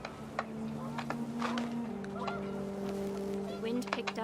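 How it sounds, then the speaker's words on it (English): Panicked geese in the video game What Remains of Edith Finch honk repeatedly in an irregular flurry of calls over a steady background tone, moderately close. "panicked geese appeared and quickly went"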